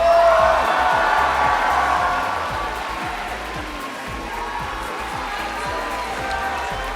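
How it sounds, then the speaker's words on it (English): An audience applauds and cheers after a Jade Lotus Lion Dance performance at a live stage show, a dense wash of clapping with a few whoops that eases a little midway and carries on steadily. "Let's give a huge round of applause to our friends from Jade Lotus Lion Dance."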